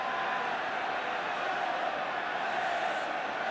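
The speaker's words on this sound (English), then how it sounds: "But the crowd getting very excited here now, because Wales are beginning to put on a bit of pressure." Excited rugby crowd at a 1984 Australia versus Wales Grand Slam tour match, a steady dense roar of cheering and shouting held at one level throughout, with no clear breaks.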